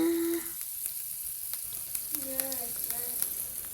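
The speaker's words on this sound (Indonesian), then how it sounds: "Masukkan margarin ke dalam wajan dan panaskan sampai benar-benar encer." Margarine melting in a frying pan gives a soft, steady sizzle and hiss, faint and close, with a few small clicks and light clatter as it heats.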